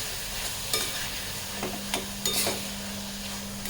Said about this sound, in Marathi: आता मी पनीर घालणार आहे ह्याच्यामध्ये ह्या स्टेजला ग्रेटेड आणि छान हलवून घ्यायचं आपण